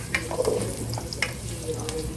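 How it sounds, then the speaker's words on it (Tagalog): Gentle sizzling of ginger sautéing in a hot pan with a few light scrapes and taps of stirring, fairly close and steady. "Magigisa na tayo ng tinolang manok."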